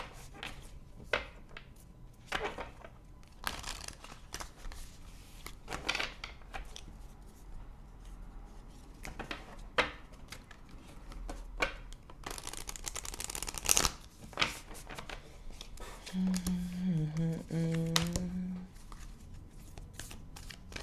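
Oracle cards are shuffled close by in repeated papery riffles and flicks over about twenty seconds, with a brief tonal sound near the end and a voice partly present under the shuffling.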